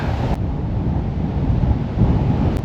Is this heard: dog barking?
no